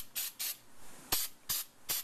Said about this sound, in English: Get some brake parts cleaner, some carb cleaner, and just spray inside the caliper.